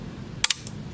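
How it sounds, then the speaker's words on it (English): Argus C3 Matchmatic camera shutter firing at a slow speed setting: a quick double click, followed by a fainter third click, close and crisp over a low background hum. "Cock the shutter."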